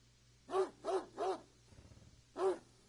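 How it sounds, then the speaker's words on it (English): Dog barking in the video game Greyhill Incident, four sharp close barks, three in quick succession and then one more after a brief low rumble. "Max is barking!"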